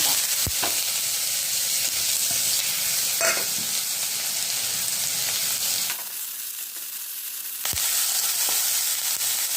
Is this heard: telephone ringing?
no